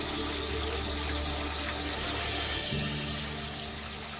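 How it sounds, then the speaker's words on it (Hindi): Water runs steadily from a kitchen tap while glasses are washed. It is a constant close rush with no breaks, and the flow drops slightly near the end. "अरे पानी बंद कर दो यार, बस 3 गिलास ही तो धोने हैं"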